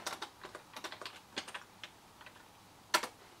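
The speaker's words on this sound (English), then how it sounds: "So if I type in basic to start the basic interpreter," Commands typed on a Raspberry Pi keyboard running RISC OS, a quick burst of close keystroke clicks followed by a pause and one sharp, louder key press, with no talking.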